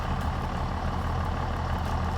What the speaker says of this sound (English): So we need to move the truck and the trailer to the left, one full lane basically.